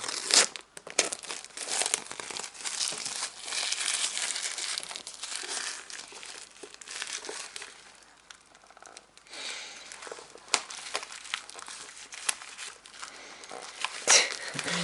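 Close, continuous crinkling of paper blister packaging being removed, with irregular rustles and small tearing bursts throughout, fairly soft.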